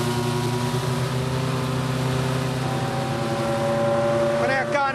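A classic truck's 6.5-litre Rolls-Royce engine drones loudly and steadily at speed on a straight road, with a constant low tonal hum and road noise, and a voice talking over it.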